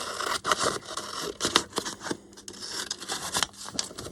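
Scissors snip through a gel print in a quiet room, a run of close, crisp cuts and scratchy scrapes in uneven rhythm, with no talking.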